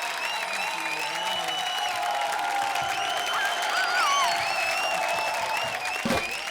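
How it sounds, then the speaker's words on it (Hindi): A comedy show studio audience applauds, steady clapping and some cheering carried under high, whistle-like tones throughout. "जोरदार तालियां"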